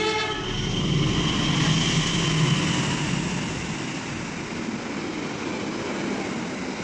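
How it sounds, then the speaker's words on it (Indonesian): A train passes through Winangun station, its loud rumble and rattling wheels rising near at first, a horn sounding early, then easing into a steady diminishing roar. "itu ternyata ada kereta yang mau lewat ya Bun"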